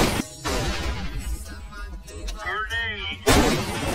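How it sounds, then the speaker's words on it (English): A grenade explodes in CS:GO: a loud, broadband blast opens the clip and another bursts near the end, with busy game noise and overlapping voices in between. "Grenade."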